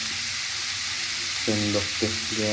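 Vegetables and bean sprouts for vegetarian lumpia filling with chicken liver sizzle steadily in a hot pan, a close, even frying hiss broken near the end by a few rhythmic tonal bursts from stirring or scraping.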